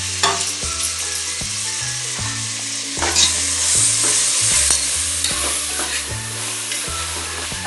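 Chicken with coriander and chillies sizzles steadily in a pan while a spoon scrapes and stirs it in repeated strokes, close and clear with no talking.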